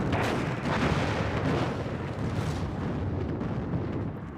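Mortar artillery fire in the war strategy game Warno booms in rapid overlapping bursts, loud explosions and rumbling impacts piling into a continuous barrage with no talk.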